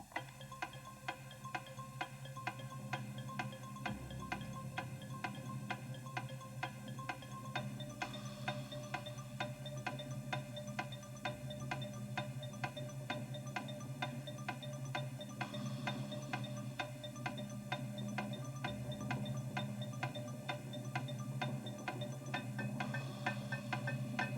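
A Countdown TV game show clock ticks steadily through a 1996 Channel 4 episode, with an even, continuous tick-tock rhythm over a low tonal music bed and no talking.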